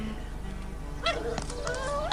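A boy in a cartoon imitates a dog barking. After a brief lull, a voice produces a series of high, whiny yips and bark-like howls, close and fairly loud, over a steady background hum.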